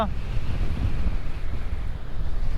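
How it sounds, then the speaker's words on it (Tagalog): Strong wind buffets the microphone in a continuous low roar, unbroken for the whole stretch and loud up close. "Taas ang hangin."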